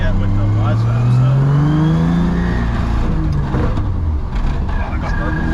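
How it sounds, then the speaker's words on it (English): A BMW 135i drift car with burbles tune driven on the street, its engine loud and close, revving with rising and falling pitch and exhaust crackle, under a voice. "Oh, I got burbles on."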